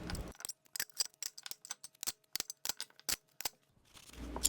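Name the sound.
cutting zip ties off finished knife blades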